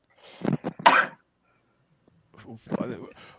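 A woman sneezes close into an unmuted microphone during an online group call: a sharp cluster of bursts, then a second, softer round a moment later, with no other talk.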